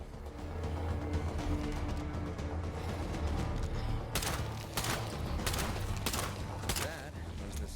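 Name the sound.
gunshot in State of Decay 2 video game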